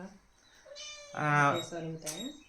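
A cat gives a short, close meow with rising and falling pitch, preceded by a softer mew and overlapping a voice speaking nearby.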